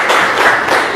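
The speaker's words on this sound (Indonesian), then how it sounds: "Beri tepuk tangan." Students in a seventh-grade classroom clap together in a loud, dense burst of applause lasting about a second.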